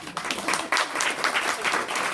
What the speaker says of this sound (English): Is it worth a round of applause?